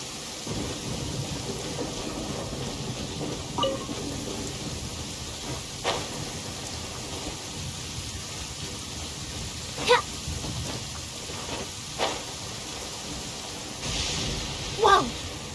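Rain falls steadily in the game Genshin Impact, a constant wash of drops with several sharp thunder cracks and rumbles breaking through, with faint voices in the mix.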